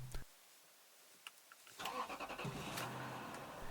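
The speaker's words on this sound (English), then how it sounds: "Now let's see the engine start from within the cabin" Lexus SC430 hardtop convertible's engine cranks and catches from inside the cabin, a brief click and whirr followed by a steady mid-pitched idle rumble with faint ticking, close and moderately loud.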